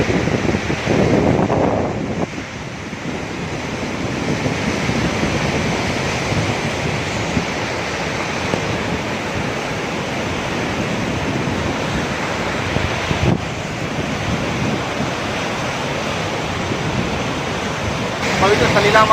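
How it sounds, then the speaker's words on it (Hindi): Babbling water of the Narmada river at Sahastradhara pours steadily in a loud, continuous broadband rush, with a wind-like roar holding throughout and no pauses. "कल कल करती हुई पानी की बूंदे मन को सिर्फ सुकून ही नहीं दे रही"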